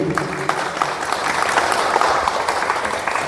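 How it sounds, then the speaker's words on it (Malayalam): An audience claps steadily at an award ceremony during a health club unit inauguration, dense sustained applause from a crowd close by, with faint voices underneath. "കൈയടിക്കുക"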